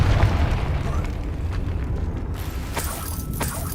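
Blasting spell explosion in a Harry Potter video game, a loud continuous rumbling boom with crackling debris that sustains across the whole moment, sharpening into brighter bursts near the end.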